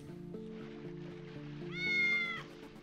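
A cat in the cyberpunk point-and-click game Tales of the Neon Sea gives one clear, drawn-out meow. A steady humming game soundtrack plays underneath.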